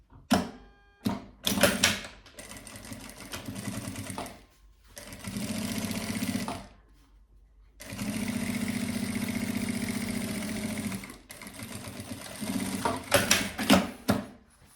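A sewing machine stitches fabric for an embroidered toiletry bag. It runs in close bursts of rapid mechanical whirring: several short runs, then longer steady stretches, separated by quiet pauses.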